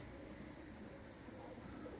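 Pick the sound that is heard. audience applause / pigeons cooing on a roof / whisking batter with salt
pigeons cooing on a roof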